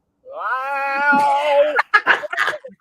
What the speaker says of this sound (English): there is a meow